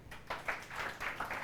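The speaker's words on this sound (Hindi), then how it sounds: "ताली बजाओ" Students clap together in a classroom during a physics lecture, a sustained, fairly soft ripple of applause running with uneven bursts for about a second and a half, with no talking over it.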